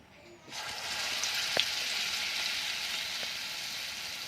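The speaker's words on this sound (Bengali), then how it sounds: "এবার ওই তেলেই আবার আমি এগুলোকে একটা একটা করে ভেজে নেব" Besan-battered egg chops drop into hot oil, which breaks into a bright, steady sizzle after a quiet start, with a few soft clinks and pops and occasional faint voice in the background.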